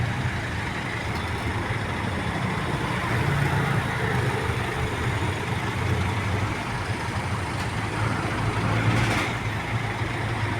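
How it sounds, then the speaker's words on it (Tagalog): Steady road traffic on Boni Avenue in Mandaluyong, with a continuous blend of car and truck engines idling and rolling past at moderate distance, forming an unbroken hum of mixed vehicles. "Daloy ng trapiko sa Boni, Mandaluyong."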